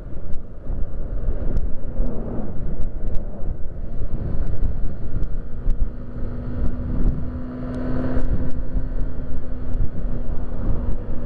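Car engine pulling hard on a road trip, a loud, rough, continuous low roar mixed with wind buffeting and scattered clicks, with a steady droning tone partway through and no speech.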